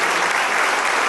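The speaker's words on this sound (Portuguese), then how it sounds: "vão aplaudindo até que o último entre" A church congregation applauds arriving attendees, a loud, dense wash of clapping that fills the space without pause.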